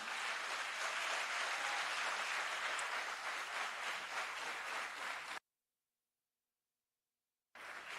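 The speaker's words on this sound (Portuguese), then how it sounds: "pode aplaudir o Senhor porque Ele é digno" A church congregation applauds steadily at a Sunday celebration service, dense continuous clapping filling the room for several seconds before it abruptly cuts to silence and briefly resumes.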